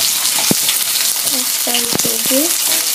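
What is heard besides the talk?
onions frying in hot oil in a pan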